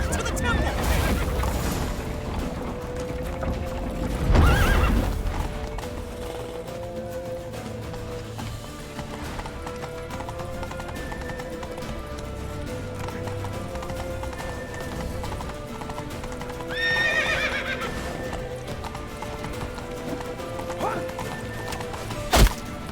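Hooves clip-clop from a galloping horse in The Witcher video game while a horse whinnies, with game music and shouted dialogue layered over the action and a brief crash near the end.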